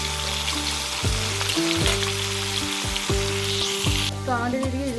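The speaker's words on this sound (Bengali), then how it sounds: "দেখো মাছগুলো ভাজা করছিলাম আর কি সুন্দর স্মেল বেরিয়েছে" Fish fries in a pan in a home kitchen, a constant crackling sizzle running under a strong rhythmic electronic hum with pulsing tones, close by and without speech.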